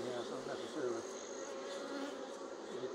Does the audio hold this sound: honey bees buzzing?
yes